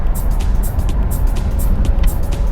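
Loud, steady road and wind roar fills the cabin of a 2006-2010 BMW 650i convertible cruising along, a constant low rumble with hissing gusts on top.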